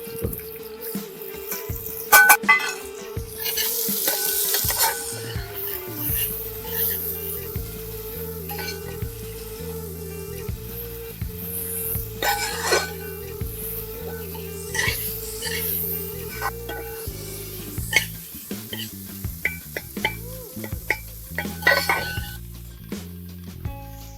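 Crushed ginger and garlic frying and being stirred in a pan with onion for a Kerala church festival dish, a soft steady sizzle broken by repeated scraping stirs and clanks, fairly quiet, with no talk.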